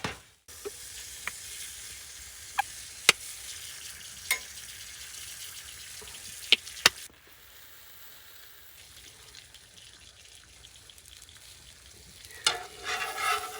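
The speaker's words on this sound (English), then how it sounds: "What's gonna give it the flavor is just kind of grilling everything" Sandwich fillings, onion among them, sizzle on a grill at a solo campsite: a steady close hiss with sharp clicks and pops scattered through it, easing off partway and then building again near the end, with no speech.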